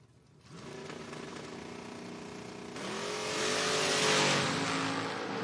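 Drag racing cars, a Camaro and a Nova, launch down the track at a door-car event, engines roaring and building in a loud rising rev with no talking over it.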